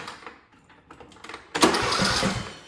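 Craftsman lawn tractor engine cranking over without starting, quiet scattered clicks followed by a louder, steady whirring crank that carries on alone until the end.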